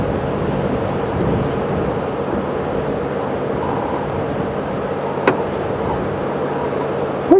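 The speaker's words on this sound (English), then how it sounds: "I think I can hear a little bit of thunder in the far distance." Faint, distant thunder rumbles as a low, continuous murmur beneath a steady outdoor ambience on a game reserve, with no clear individual claps.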